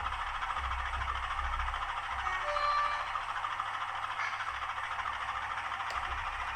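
A small model locomotive hums and whirs steadily along its track, a faint continuous motor drone with light mechanical rattling.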